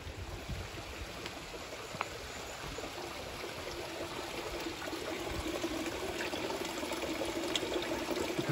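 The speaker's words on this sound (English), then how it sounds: "The water is now running down in the concrete." Spring water at a shrine near Mt. Aso in Kumamoto, Japan, running steadily from a bamboo spout down concrete: a continuous, even trickling and splashing wash, moderately close, with no voices.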